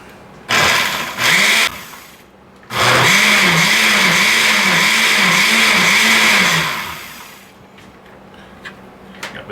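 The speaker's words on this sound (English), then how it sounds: "And now we blend it up." A countertop blender purees a chilaquiles sauce with chopped cilantro: two short loud pulses, then a long, steady, close-up roaring whir with a wobbling motor tone that winds down to quiet after several seconds.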